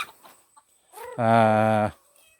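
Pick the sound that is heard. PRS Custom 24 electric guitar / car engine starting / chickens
chickens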